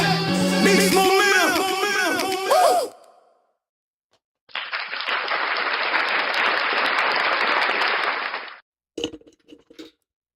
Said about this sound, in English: a round of applause for everybody